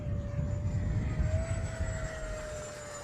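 HK FlyCat RC airplane passing overhead outdoors, its small motor giving a steady whine that drifts slightly in pitch as it flies by, fairly faint against wind rumble.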